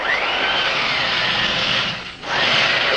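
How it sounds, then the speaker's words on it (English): Electric sander working over boat wood, a steady rough whirring drone held close and loud, with a brief dip as it eases off before running on again. "that electric sander's too rough"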